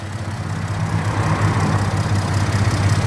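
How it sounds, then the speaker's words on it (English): A 2013 Ford F-150 Platinum pickup with a turbocharged engine idles with a steady, close, low rumbling drone that holds even throughout, with no voices. "Sounds pretty nice when you're kicking it in and the turbo kicks in."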